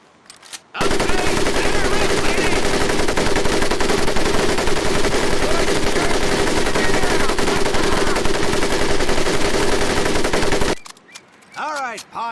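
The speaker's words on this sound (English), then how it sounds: "M1919A4 30 caliber machine gun" Sustained automatic fire from an M1919A4 .30 caliber machine gun in a World War II Pacific combat video game, a loud continuous burst lasting about ten seconds before cutting off abruptly.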